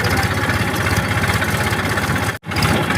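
A tractor engine runs at a steady idle, a loud, close, rhythmic throbbing rumble with a momentary break partway through before it resumes.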